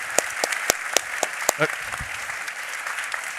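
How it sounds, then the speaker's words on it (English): An audience applauds panelists after a finance discussion with a Swedish minister, with a few distinct claps in a steady beat over a soft crowd wash, fairly quiet, and a voice briefly speaking partway through. "So a huge round of applause for our panelists."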